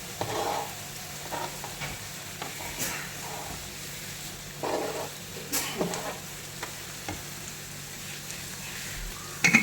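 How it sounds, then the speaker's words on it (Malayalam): Green beans and cabbage stirred and sautéing with softened onion in a pan for a vegetable egg thoran, with a soft steady sizzle and occasional scraping stir strokes, fairly quiet and without talk. "പയറും കാബേജും കൂടെ ചേർത്ത് വഴറ്റാം."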